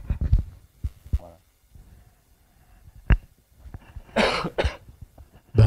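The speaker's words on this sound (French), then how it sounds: "Excusez-moi, je tousse." Several sharp coughs break out nearby, a few short ones early and a louder harsh burst later, with quiet pauses between.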